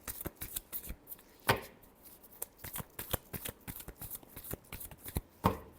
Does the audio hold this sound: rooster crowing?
no